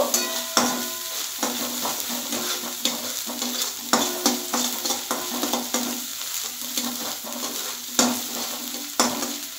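A pan over raised heat with hilsa fish head and chickpeas frying: a constant close sizzle under brisk, regular scraping and clinking stirring strokes, with no voices.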